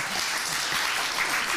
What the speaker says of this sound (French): Merci Michel Jeanneret, on peut l'applaudir.